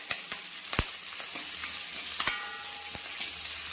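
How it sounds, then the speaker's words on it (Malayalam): Green chillies dropped into hot oil with ginger and garlic for a Kerala-style egg roast, giving a steady close sizzle with sharp crackles and pops scattered throughout and no talking. "ഇഞ്ചി വെളുത്തുള്ളി നല്ലപോലെ മൂക്കണേ, മൂത്തൊരു മണം വരണം. അപ്പോൾ ഇതിലേക്ക് നമ്മൾ പച്ചമുളക് ഇട്ട് കൊടുക്കുവാണ്."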